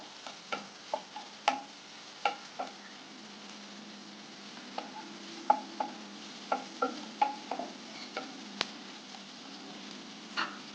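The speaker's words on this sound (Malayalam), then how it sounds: "വീണ്ടും ഇളക്കി കൊടുക്കാം" Bay leaves stirred in a cooking pan, a series of sharp, irregular ticks and scrapes of a utensil against the pan over a soft sizzle, with a pause in the middle before the stirring resumes.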